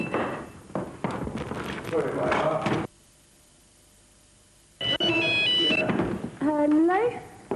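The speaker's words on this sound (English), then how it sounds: "That's my phone again." A mobile phone rings with a melodic tonal ringtone in the final seconds, sounding close by after a pause, while people talk over and around it indoors in a shared house.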